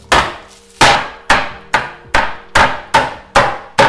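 A meat mallet pounds chicken flat on a board in about nine sharp, evenly spaced thuds, loud and close with brief decays between strikes, and no voices.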